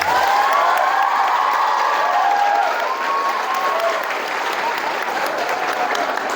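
A seminar audience at an Islamic institute's education faculty in Metro Lampung breaks into loud, sustained applause with cheering and whoops, a dense crowd roar that holds steady then eases slightly.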